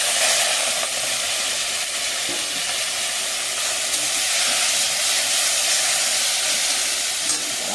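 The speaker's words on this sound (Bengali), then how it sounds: "তেল গরম হয়ে গেছে, চিংড়ি মাছগুলো এবার ভেজে দেব।" Prawns frying in smoking-hot oil in a very hot wok, seasoned with turmeric and salt: a steady, dense hiss and crackle that fills the whole stretch at close range, with no voices over it.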